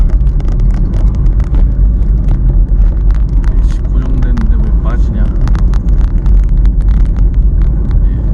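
A car rolls downhill with the driver on the brakes and the engine left unrevved, giving a low, steady rumble with road and wind noise close to the microphone. Someone speaks briefly over it.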